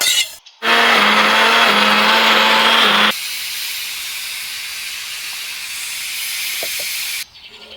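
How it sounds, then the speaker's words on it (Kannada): A mixer grinder grinding coconut roars loudly for a few seconds, then runs on at a lower steady whir before cutting off abruptly. "ಇದನ್ನು ನಾವು ಸಣ್ಣಗೆ ರುಬ್ಬಿಕೊಳ್ಬೇಕು."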